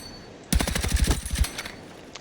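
Light machine gun firing in Battlefield 6, a single close, loud burst of about a dozen rapid, evenly spaced shots lasting roughly one second.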